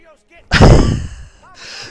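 Loud close gunshot bursts from the Mafia Definitive Edition video game, a heavy blast followed by a rumbling tail, with faint game sounds before and after.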